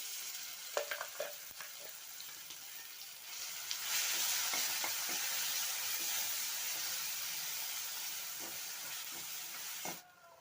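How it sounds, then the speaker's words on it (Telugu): Ground green chilli chutney hits hot tempering oil with curry leaves. A few light clinks lead into a strong, steady sizzle that holds for several seconds, then cuts off abruptly. "ఇప్పుడు మిక్సీకి వేసుకున్న చట్నీ కూడా వేస్తున్నానండి"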